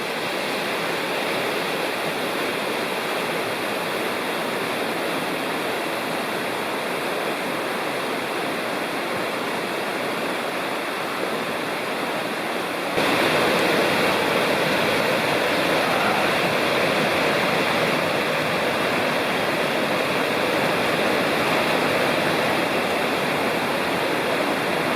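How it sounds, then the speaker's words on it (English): The North Fork of Citico Creek in the Cherokee National Forest rushes over rocks, a loud, continuous broadband roar of flowing water close by that grows slightly louder midway through, with no voices. "Here are some more videos of the beauty of the North Fork of Citico Creek."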